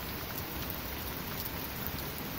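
Steady, dense rain pours down during a thunderstorm in Cambridge, a loud unbroken hiss of drops filling the scene with no voices.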